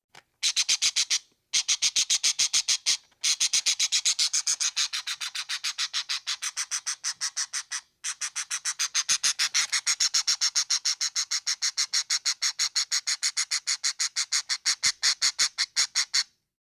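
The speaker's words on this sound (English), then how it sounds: "Parrot" A parrot gives rapid, loud, close squawks in steady bursts, a long run of harsh repeated calls with a few short pauses, and no other sounds.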